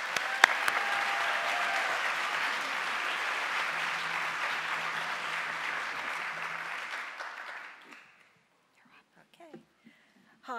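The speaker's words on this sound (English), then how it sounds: "round of applause" Sustained audience applause at an awards ceremony, loud even clapping for about eight seconds before fading into near silence, followed by a brief voice and a few faint sounds.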